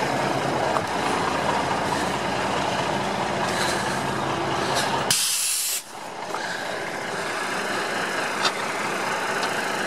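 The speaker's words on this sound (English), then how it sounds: "The truck has air brakes, and therefore it makes sense that the PTO is also air operated." A 1989 Ford L8000 rollback recovery truck with air brakes and an air-operated PTO idles steadily, then gives a sharp, loud burst of hissing air release before the engine noise settles back in.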